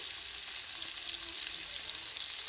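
Chopped pumpkin peel and potato stir-fried in hot oil give a steady, close hiss of sizzling with faint scraping from stirring throughout.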